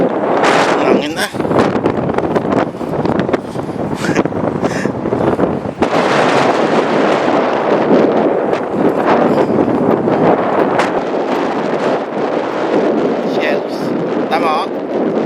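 Strong wind blowing steadily across a beach on the shore, with heavy gusty buffeting and rumble at the microphone, loud and continuous throughout.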